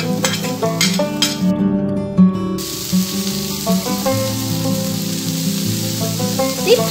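Vegetarian fruit fried rice ingredients are tossed and stir-fried in a pan, giving a steady sizzle and light scraping that runs under prominent background music.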